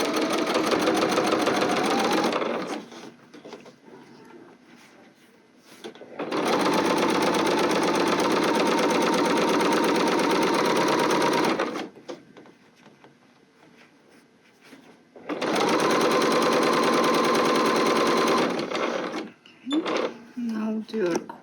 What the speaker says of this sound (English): Lift your presser feet to the turn and continue with finishing your other bind.